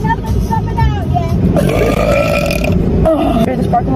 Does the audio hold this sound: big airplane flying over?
no